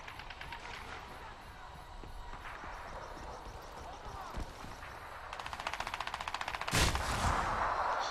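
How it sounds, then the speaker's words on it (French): Sniper and automatic gunfire in the Crysis 3 beta shooter game, with repeated rapid shots building toward a loud burst near the end over a steady game background. "on va se mettre invisible, on va essayer d'en sniper un"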